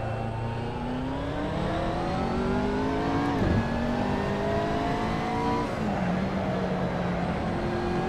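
Tire squeal from a car in the racing video game Assetto Corsa, heard as steady whining tones that bend in pitch over a continuous, loud engine roar, with no talking.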